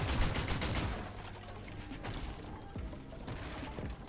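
Video game gunfire: a rapid burst of automatic shots at the start, then sparser scattered shots and mechanical clicks at moderate distance, with no voices.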